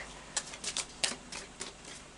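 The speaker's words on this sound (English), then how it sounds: "so I'll just do a final shuffle now, first of all with the Moonology Oracle deck." A few sharp, irregular snaps and riffles of a Moonology Oracle card deck being shuffled, close and fairly quiet, with brief pauses between bursts.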